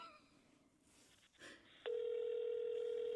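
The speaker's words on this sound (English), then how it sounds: "It's ringing. It's ringing." A telephone line connects, giving a brief soft tone, then a loud steady ringback tone holds without a break to the end of the clip.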